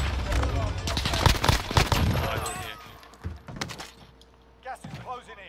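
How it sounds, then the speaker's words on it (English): Bursts of gunfire and a rapid fusillade in a Warzone match, shots crackling loudly in the first two seconds then thinning to scattered, fainter reports, with players talking over the shooting. "Getting shot from the bushes."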